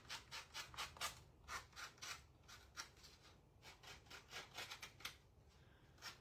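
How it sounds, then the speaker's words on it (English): Sandpaper rubbed by hand over a wooden shelf leaner board, a steady run of short, close scratchy strokes in an uneven back-and-forth rhythm, heard alone with no talking. "Sometimes the sanding takes the longest time."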